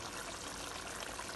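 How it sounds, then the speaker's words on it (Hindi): Slightly warmed water poured steadily into a pot of biryani, a continuous close splashing rush with no voices. "इसमें थोड़ा सा पानी ऐड करेंगे, पानी भी मैंने थोड़ा हल्का सा बॉईल कर लिया, हल्का सा पानी इसमें डालेंगे"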